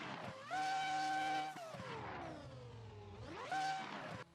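A Ferrari F1 concept car in Assetto Corsa screams at high revs, its engine whine climbing, dropping through gear changes and rising again, loud and close with no talk.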